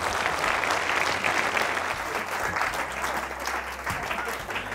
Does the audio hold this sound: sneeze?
no